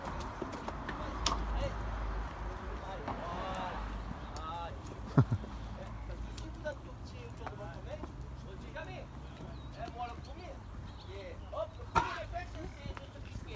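Horse hooves clip-clopping at the start of a trail ride in the Camargue, France, a loose uneven patter of steps heard under nearby chatter and outdoor noise.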